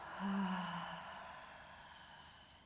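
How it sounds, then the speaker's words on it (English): A single soft, slow exhale during a yoga pranayama breathing exercise, close and quiet, trailing off gradually into near silence. "Exhale, empty all the breath out."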